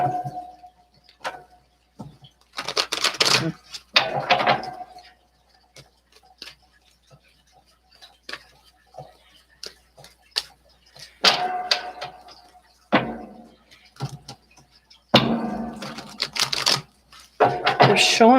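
Tarot cards being shuffled during a live reading, coming as several short bursts of riffling, crisp card slaps amid quiet gaps and speech.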